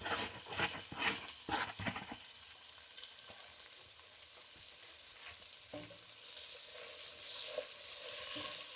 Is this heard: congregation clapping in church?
no